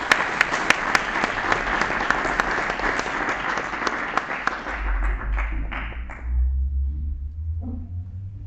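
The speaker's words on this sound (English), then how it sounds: "May we please have a round of applause for him." An award ceremony audience gives a round of applause, loud dense clapping with a few sharp nearby claps that thins out and fades after about six seconds, leaving a low rumble.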